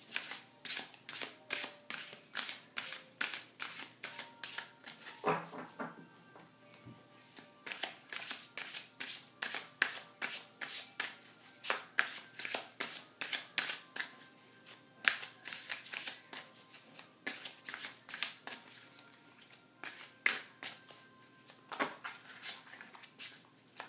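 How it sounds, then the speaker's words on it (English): Tarot cards are shuffled in a long run of quick, repeated riffling bursts. The sound is faint and close, with steady rhythmic flicks and no voices. "So I'm going to go ahead and shuffle the cards."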